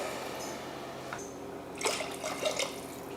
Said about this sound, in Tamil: இதில் தான் தண்ணி சேர்க்குறேன்.